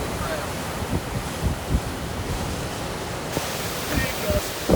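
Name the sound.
strong wind gust during Hurricane Idalia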